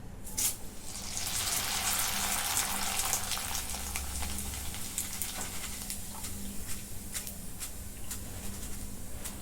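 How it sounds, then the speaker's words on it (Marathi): Flattened rice (poha) fried in hot oil for a spicy maize chivda, giving a loud rushing hiss that swells early and stays steady, dotted with sharp crackles and pops throughout, with no talking. "आता तेल गरम झालेलं आहे पोहे तळून घेऊ"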